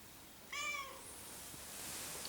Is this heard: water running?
no